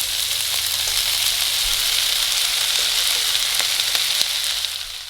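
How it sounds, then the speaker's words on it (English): Vegetables and oyster mushrooms sizzle steadily in a hot pan, a loud, close, continuous hiss and crackle with a few sharp pops, fading slightly at the end. "then we'll give it a stir and cook it for another 2 to 3 more minutes"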